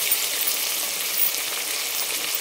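Spices with ginger-garlic paste, turmeric, cinnamon, mint and coriander fry in a pan for tomato rice, giving a steady, dense sizzle that holds even throughout with no talking.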